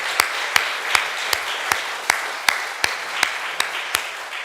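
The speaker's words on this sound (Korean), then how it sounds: "박수가 좀 더 세게 쳐야지." A church congregation at a Sunday service claps in a steady, even rhythm, about a dozen crisp beats in a reverberant hall with low crowd murmur beneath.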